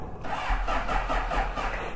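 A motorcycle is given a gentle bump start, and its engine turns over and rumbles roughly as it tries to catch, close and steady for about a second and a half with no talk.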